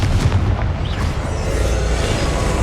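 A loud, booming blast from the Confringo fire spell in the PS5 game Hogwarts Legacy, a sustained rumbling explosion with heavy low-end roar and crackling debris throughout, no voices.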